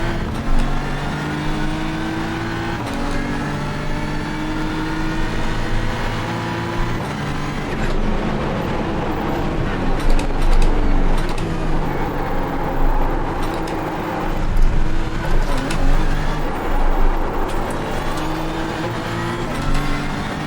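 A BMW M4 GT3 race car in the iRacing simulator roars around Imola, its engine loud and continuous with rising and falling revs through gear changes and corners, alone with no voices.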